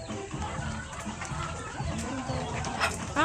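Plump chickens on a small backyard farm cluck and chatter in short, overlapping bursts, fairly close, with faint human voices mixed in behind them.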